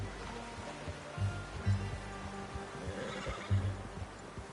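A horse whinnies in a few short bursts in Red Dead Redemption 2 over a steady background hum, fairly close, with faint hoof movement between calls.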